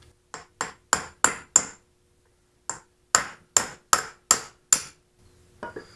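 Hammer blows punching an AC compressor clutch pulley off a Subaru Legacy, two bursts of sharp ringing metal strikes, five then five more in quick rhythm, loud and close with a gap between.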